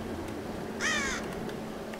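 A single harsh crow caw sounds once in the mountain village of Tomb Raider, clear over a steady windy ambient bed.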